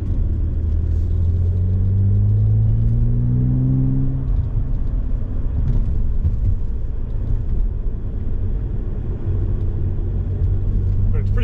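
A Porsche 992 GT3 Touring drives along a winding road, its engine a steady loud rumble with a rising tone as it accelerates, heard from inside the car with speech over it.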